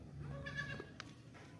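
A Nagra breed milk goat with kids gives a short nasal bleat up close, followed by a brief fainter call, over quiet farmyard background.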